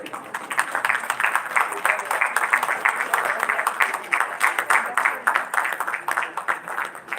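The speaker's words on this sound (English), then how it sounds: "A huge round of applause, please." Steady applause from a crowd at a dental conference fills the room, dense clapping continuing at an even level throughout.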